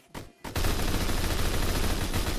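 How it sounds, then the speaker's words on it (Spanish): A shooter video game fires an HK21 machine gun: after two brief thumps comes a loud, dense, sustained burst of rapid gunfire that fills the rest of the moment. "Lo maté con un disparo nada más."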